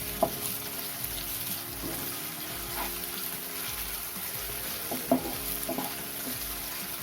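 Ginger garlic paste frying with browned onions in a pan, a soft steady sizzle with a few scrapes and stirring clinks scattered through, fairly quiet and with no talking.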